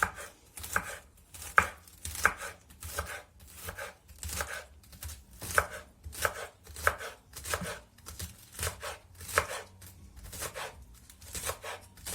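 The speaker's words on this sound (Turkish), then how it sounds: "İlk önce marullarımı ince ince doğruyorum." Lettuce being finely chopped with a knife on a cutting board for a seasonal salad, a close, steady run of rapid rhythmic chops lasting the whole stretch with no talk.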